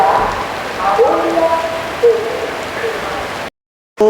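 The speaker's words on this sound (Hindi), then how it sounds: "डोंगरगढ़ में बारिश ने दस्तक दे दी।" Heavy rain pours at Dongargarh railway station as a Raipur–Itwari passenger train waits, a loud, dense hiss with faint voices beneath it, breaking into a brief silence just before the end.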